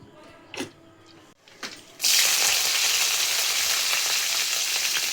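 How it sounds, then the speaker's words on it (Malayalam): Green chillies, curry leaves, ginger and garlic hit hot coconut oil with a loud, sudden sizzle that holds as a steady, dense crackle after a few softer clinks and stirs. "പച്ചമുളകും കറിവേപ്പില ഇട്ടതിന് ശേഷം ഇഞ്ചി വെളുത്തുള്ളി, ഇതൊന്ന് മൂപ്പിക്കാം"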